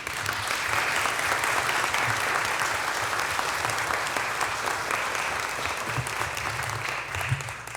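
An audience at a city council meeting claps steadily for several seconds, a dense, even round of applause that stays loud throughout.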